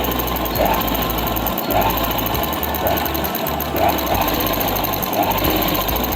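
Sewing machine stitching palazzo pants along a zip: a loud, continuous rapid chatter of the needle with slight surges in speed, close and alone.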